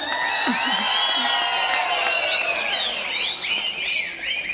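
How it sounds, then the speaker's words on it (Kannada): Crowd at a Kanakadasa Jayanti celebration applauding loudly and steadily, with scattered cheers and whistles rising over the dense clapping throughout. "ಈಗ ಎಲ್ಲರೂ ಸೇರಿ ಕನಕದಾಸರಿಗೆ ಒಂದು ಜೋರಾದ ಚಪ್ಪಾಳೆಯನ್ನು ಹಾಕ್ಬೋದಾ"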